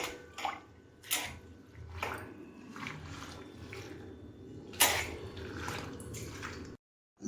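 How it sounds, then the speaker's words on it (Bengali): Red amaranth greens are squeezed and washed in a basin of water, with repeated splashes, squelches and drips in an irregular rhythm, close and fairly quiet, and no talking. "লাল শাক তো একটু ভালো করে চটকে চটকে ধুয়ে নেবেন"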